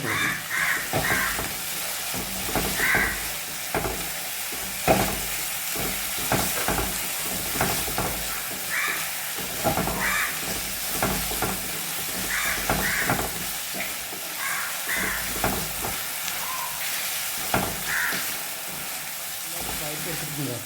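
Something is sautéed with salt in a pan for a Kerala-style home recipe, with a continuous close sizzle and repeated stirring scrapes while crows caw intermittently in the background.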